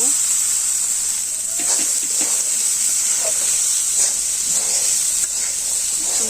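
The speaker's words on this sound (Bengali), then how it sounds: "এখন ভালো করে মশলাটা কষিয়ে নিব যে মশলাটা ভালো করে কষে নিচ্ছি" Spice masala of cardamom, chili and cinnamon sizzles in a pan as it is stir-fried, a constant bright hiss with faint scraping, loud and close.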